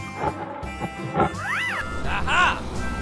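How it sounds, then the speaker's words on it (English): A tiger roar in a children's animal cartoon, a short cartoonish roar with rising and falling pitch amid upbeat background music, fairly close and loud. "Tiger."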